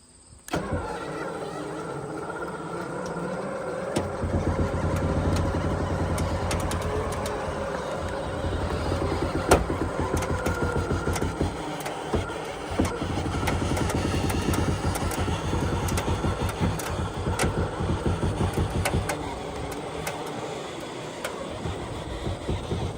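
A winch strains to drag a stuck vehicle in a straight line, with a continuous loud engine and motor drone, uneven grinding and rattling, and occasional sharp clanks throughout.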